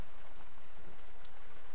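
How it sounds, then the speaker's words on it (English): Steady, heavy rain pours outdoors around a house's patio and yard, a dense, even hiss throughout with no voices. "it's raining, so we'll just, and it is really raining."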